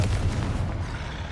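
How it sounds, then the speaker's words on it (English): A Confringo explosive spell goes off in Hogwarts Legacy, a loud booming blast with a heavy low rumble that fades quickly, heard alone with no talk. "Confringo!"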